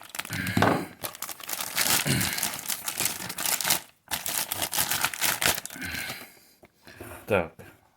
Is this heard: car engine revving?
no